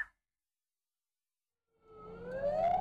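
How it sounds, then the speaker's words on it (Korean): A fire engine siren responds to a karaoke fire in a commercial building. After near silence, the siren begins a rising wail that grows louder over the final second. "소방차가 화재 현장으로 긴급 출동합니다"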